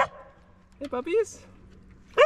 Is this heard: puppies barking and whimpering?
yes